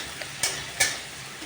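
Leafy greens (shak) frying in oil give a soft background sizzle, with two brief scraping stirs.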